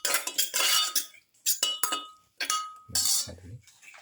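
A spoon clinks and scrapes against a metal pot as stew ingredients are mixed, several sharp bright knocks in short bursts with pauses between.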